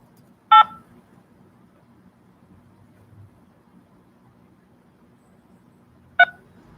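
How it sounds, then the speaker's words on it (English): Two short touchtone keypad beeps from a phone, entering a PIN, each a brief clear tone, separated by about six seconds of near silence. "Using your touchtone phone. Please enter your PIN number."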